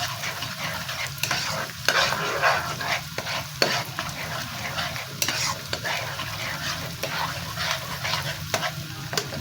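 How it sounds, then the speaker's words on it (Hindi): Ginger, garlic and green chili tempering for saag sizzles and crackles in hot oil while being stirred, a continuous close frying hiss with scraping stirs and small pops, and a faint dog sound in the background. "सिर्फ अदरक लहसुन और हरी मिर्च का तड़का लगाती हूँ"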